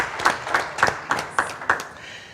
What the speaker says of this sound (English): Can we give Olivia a big round of applause?